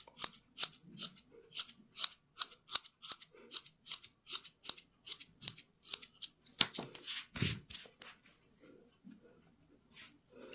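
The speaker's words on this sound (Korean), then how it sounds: "자를 때 너무 처음부터 과감하게 자르지 마시고 조금씩 미용하듯이 조금씩 자르면서 조절한다" Scissors trim a crochet yarn pompom for crochet socks in a rapid series of crisp snips, close and steady, with a brief louder rustle partway through.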